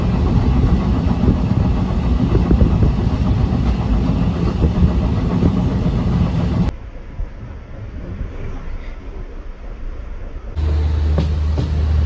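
A train rushes past at a Konkan railway stop in monsoon rain, a loud continuous roar and rattle that drops off abruptly partway through and then returns with a low rumble.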